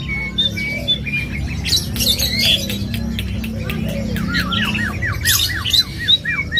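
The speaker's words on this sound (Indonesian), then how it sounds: "Jalak suren gacoran." Asian pied starlings (jalak suren) sing loudly in a busy bird market, with repeated whistled and squawking phrases over a steady murmur of background crowd noise and other birds.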